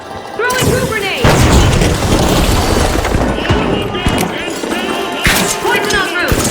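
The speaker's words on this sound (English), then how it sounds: "Throwing goo grenades!" Goo grenades thrown in a ranked tournament match of The Finals on the Nozomi/Citadel map, heard as loud booming thuds and impacts under constant excited commentary, with a fresh burst of hits near the end.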